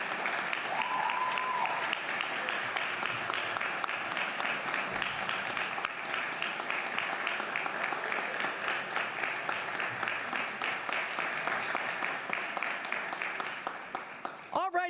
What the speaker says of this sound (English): let's us turn around and give a rousing round of applause for all these people who helped us